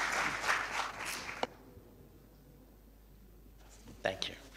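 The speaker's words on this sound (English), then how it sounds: "Shall we welcome him with a round of applause?" Audience at a government conference on improvised mines in Ghana gives short bursts of applause, a burst at the start and another near the end, separated by a quiet lull with faint murmuring.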